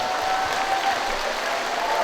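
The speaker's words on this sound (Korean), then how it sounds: "힘찬 박수 한번 부탁드리도록 하겠습니다." Audience applause at a women's singing class event, steady dense clapping from a crowd throughout, fairly close and even in level with no voices over it.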